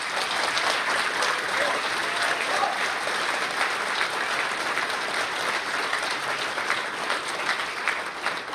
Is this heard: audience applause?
yes